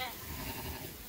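A single sheep gives a short, faint bleat on a sheep farm, brief and somewhat distant against soft background noise.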